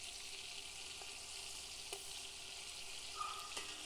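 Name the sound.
red fish fillets searing in a pan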